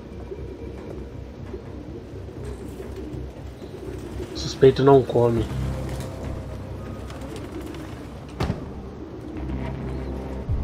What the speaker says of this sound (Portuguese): Essas pombas.